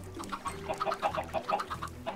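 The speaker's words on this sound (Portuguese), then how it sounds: "Ó, Moon, eu acho é bom a gente levar algumas galinhas em forma de comida, se é que você me entende, mas não todas." Chickens cluck repeatedly in a video game, with short rhythmic calls from several birds at moderate loudness and no talk over them.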